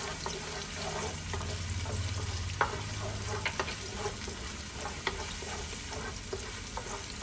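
Chopped garlic and half an onion frying in a pan for Jamaican-style curry chicken, a steady close sizzle with occasional stirring clicks and scrapes throughout, no talking.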